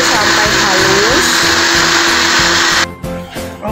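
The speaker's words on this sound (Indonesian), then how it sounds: "Kita blender sampai halus." A kitchen blender purees large, very hot red chili peppers, running as a loud, steady whirring grind for nearly three seconds before cutting off abruptly.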